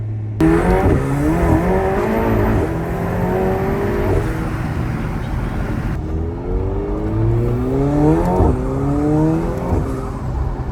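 A McLaren 720S sports car driving at night, heard from inside the cabin: the engine revs loud and continuous, its pitch sweeping up through the gears and dropping back again several times.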